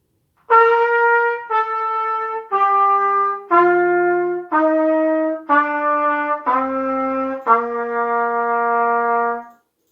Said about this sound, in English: Today let's try going from the top all the way down to the notes we've already learned.